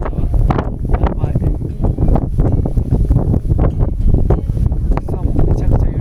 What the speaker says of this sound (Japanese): 風がきついすぎやわ